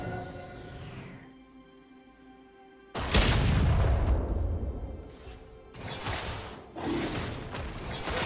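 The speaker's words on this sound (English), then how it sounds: "Team's turret has been destroyed." A turret being destroyed in League of Legends, shown as a heavy booming crash with rumbling debris, followed by further impacts and whooshes after a quieter tonal stretch.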